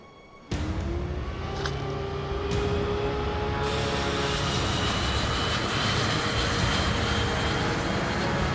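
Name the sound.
training jet engine in video game Ace Combat 5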